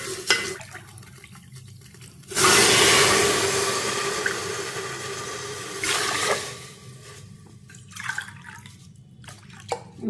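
About two and a half cups of water are poured into a pan of sautéed garlic while black urad dal rice is cooked, a loud, close splashing gush lasting a few seconds, then a shorter splash and faint clinks afterward.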